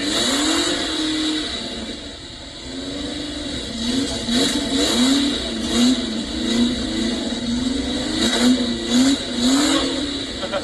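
A car engine at the 2023 4L Trophy rally revs up and down in repeated bursts, rising and falling pitch close by and loud throughout.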